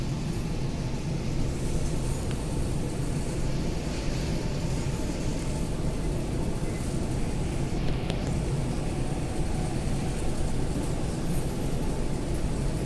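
A Metlink commuter train on Wellington's Kapiti Line pulling away, heard from inside as a steady low rumble and hum of the carriage that continues evenly throughout.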